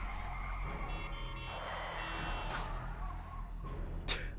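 A car skids toward the player in the video game 428 Shibuya Scramble at a Shibuya crossing, a long tire screech rising over a steady engine roar, ending in a sharp burst near the close.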